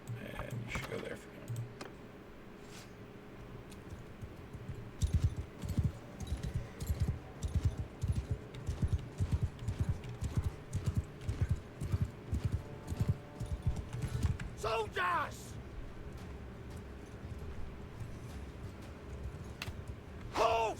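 Cavalry horse hooves clatter in rapid, continuous clip-clop rhythm in a strategy video game, dense and steady throughout, with someone shouting over them.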